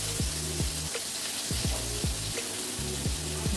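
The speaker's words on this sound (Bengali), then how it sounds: "মাছটা এপার ওপার ভাজা হয়ে গেলে" Hilsa fish frying in a pan, with a loud, constant broadband sizzle running throughout and low droning tones gliding and repeating underneath.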